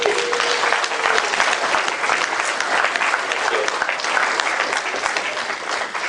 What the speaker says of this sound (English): Now, we have to applaud to wake up those who follow us.